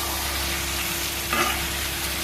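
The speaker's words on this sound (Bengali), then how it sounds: "এই যে মাটনটা দেখো পুরো ভালোভাবে কষিয়ে নিতে হবে" Mutton sizzles in a pan for a mutton curry, with a steady frying hiss and a brief scrape of stirring midway, no voices.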